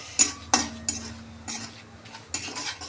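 Turmeric, red chili powder and homemade masala stir-fried in oil clatter as a spoon scrapes and knocks against the pan in several distinct strokes, over a faint sizzle.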